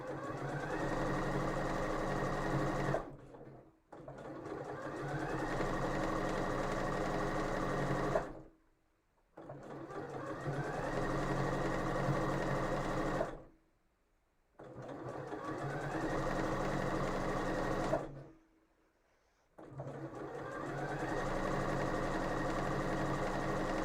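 A sewing machine stitches a seam in four long, steady runs of close, whirring mechanical hum, each lasting several seconds and broken by brief silent pauses.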